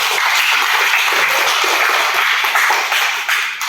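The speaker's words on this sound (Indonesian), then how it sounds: "Tepuk tangan untuk kita semua" Students in a religion class applaud themselves after their group presentations. The clapping is loud, dense and continuous, close by, and runs the whole time without a break.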